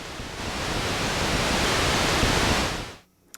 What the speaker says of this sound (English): this is a chip based noise source, but it's not got the reset like the later Moog noise.